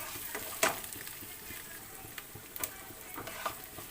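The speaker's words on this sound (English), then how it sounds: "So we have to saute until the onion change color or it gets translucent." Onion sautéing in a pan for chicken curry, a soft steady sizzle under scattered clicks and scrapes of a utensil stirring, fairly faint and close, no talk.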